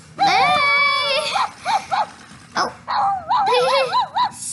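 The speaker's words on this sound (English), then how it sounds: "She's barking for real." A dog close by gives drawn-out, wavering barks and whining yelps in several bursts, some long and sliding in pitch, with short pauses between them.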